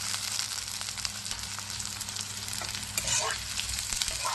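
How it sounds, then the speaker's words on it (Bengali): Chopped garlic and ginger frying in oil for chilli paneer, a steady close sizzle with occasional stirring scrapes and a faint low hum underneath, no voices. "রসুনটা একটু ভাজা ভাজা হবে। এতে দিয়ে দিব আদা কুচি।"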